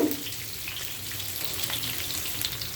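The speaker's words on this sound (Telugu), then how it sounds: "చిన్న మంటలో మీరు తాలింపుని చేసుకోవాలి" Tempering spices sizzle in oil over a low flame for pulihora, a soft, steady frying crackle that runs throughout with no talking.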